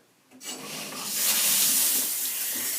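A handheld shower head is switched on and sprays water, starting with a click, then building into a steady, broad hiss of spray that holds to the end.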